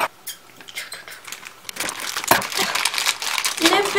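Crinkling plastic wrapping and packaging from an anime merchandise unboxing, a figure being opened, rustling in quick irregular bursts that grow denser and louder, with a voice speaking in between.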